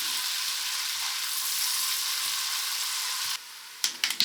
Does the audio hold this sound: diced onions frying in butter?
yes